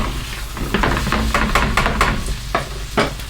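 Onions for a cauliflower and kale hash fry in a pan with a constant sizzle, while a utensil scrapes and pushes them around in short irregular strokes, close and fairly loud.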